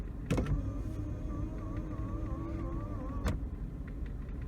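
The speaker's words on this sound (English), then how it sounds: "I could fold and unfold my mirrors while I was driving" Power folding side mirror motor on a Mercedes ML W163 whirs steadily for about three seconds between two sharp clicks, close and clear over a low background rumble, with no talking.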